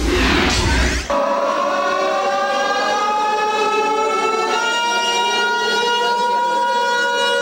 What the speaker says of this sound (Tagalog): Pagtunog ng sirena, ito na ang naging hudyat na kunwari lumindol.